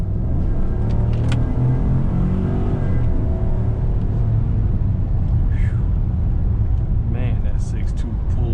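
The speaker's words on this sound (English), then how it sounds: "Just wanted to give you guys an acceleration test." A 2017 Cadillac Escalade with a 6.2 engine in sport mode accelerates hard, a deep rising engine roar heard steadily from inside the cabin, with a brief voice and faint chirps over it.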